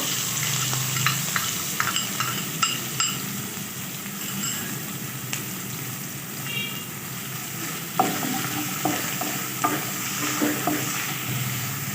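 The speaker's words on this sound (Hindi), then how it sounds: "हल्का सा फ्राई कर लेंगे। प्याज हमारे हल्के से फ्राई हो चुके हैं।" Finely chopped onion fries in two to three spoons of hot oil in a pan on a stove, giving a steady, close sizzle broken by repeated clicks and scrapes of stirring.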